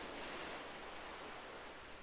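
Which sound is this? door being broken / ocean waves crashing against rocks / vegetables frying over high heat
ocean waves crashing against rocks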